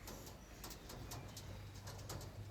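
Pigeons of the Andhra Lalsira and Kalanka breeds coo in a loft, a steady low murmuring hum under faint chirps, continuous and moderately near with no talk.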